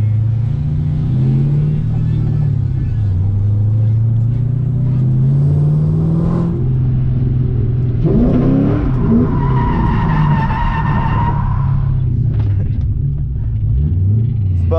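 A car spins out on the first corner at a drift event, with loud engine roar, revving and long screeching tire skids that rise and fall over a steady rumble.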